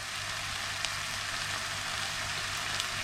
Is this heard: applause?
no